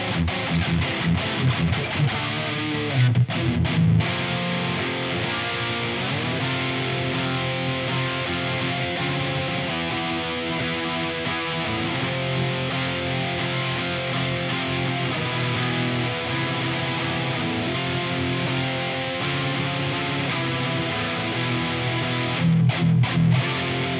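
Electric guitar played through an IK Multimedia TONEX pedal with noise gate and reverb, a loud, sustained distorted tone with chords held and shifted, strummed bursts at the start and end, heard alone.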